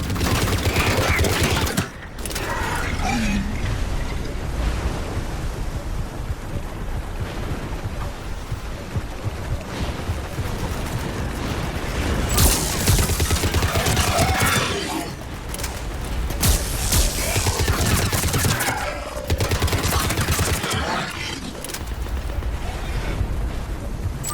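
Sustained gunfire in the video game Mass Effect 3, heavy bursts and explosive blasts roaring almost continuously with brief lulls, loud and close throughout.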